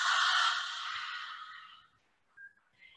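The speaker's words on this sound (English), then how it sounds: "Exhale through the mouth." A long, breathy exhale through the open mouth during yoga breathing, strong at first and fading away over about two seconds, followed by quiet with a couple of faint breathy traces.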